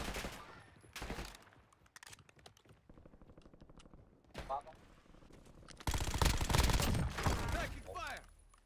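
Rapid automatic gunfire from the video game Call of Duty Warzone crackles in dense bursts, growing heavier and louder toward the end, with voices talking over it.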